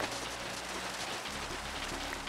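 Steady rain falling in the game Minecraft on a deserted island, a constant hiss of drops with a low background drone, with no voices.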